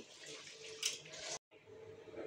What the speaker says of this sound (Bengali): এবারে আগে থেকে উষ্ণ গরম জল দিয়ে নিচ্ছি।